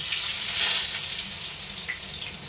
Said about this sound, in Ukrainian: Сковорідка нагрілась, починаю смажити.